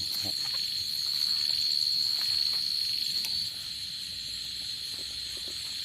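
Crickets chirp at night in a rural Thai village, a steady high-pitched trill holding throughout with faint clicks and rustles around it, moderately quiet and with no voices.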